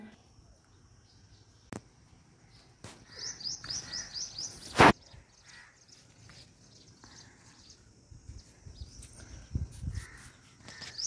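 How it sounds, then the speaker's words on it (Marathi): Birds call outdoors on a village house porch in the morning, with scattered chirps and tweets, a crow's caw and a sharp nearby burst, fairly faint against a quiet background. "चिमण्या पाखरांचा चिवचिवाट नुसता."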